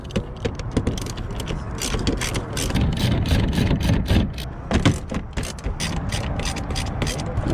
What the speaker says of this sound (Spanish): Utilizamos un cubo número 10.